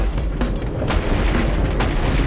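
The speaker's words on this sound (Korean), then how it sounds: "뒤에서 터지는 소리가 들리는데" Dull booming bursts sound a few times over a steady rumbling background, like distant explosions behind the player in video game audio.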